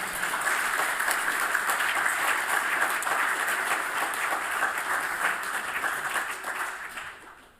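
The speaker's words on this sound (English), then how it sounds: "you all applaud." Audience applause at an online inaugural lecture, continuous dense clapping that holds steady for several seconds and then fades out.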